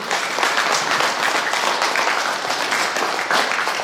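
Steady applause from a crowd at a memorial Mass, continuous clapping at an even level throughout the short stretch.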